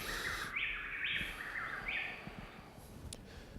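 A male and female bird sing together in an intimate duet, their bright chirps and rapid trills overlapping in short phrases against a soft background hiss.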